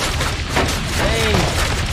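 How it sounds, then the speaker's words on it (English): Gunfire in the video game Spider-Man: Web of Shadows comes as dense, rapid bursts of shots under game sounds, with game voices heard over it. "Oh, they shooting."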